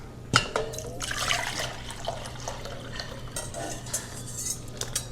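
A spoon stirs sugar into a yeast mixture in a measuring cup, with close, light clinks against the cup and liquid swishing through the stir.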